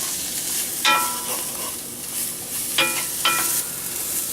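A hot pan sizzles while food cooks, giving a steady bright hiss with a few short clattering bursts of stirring near the middle and end; no one talks.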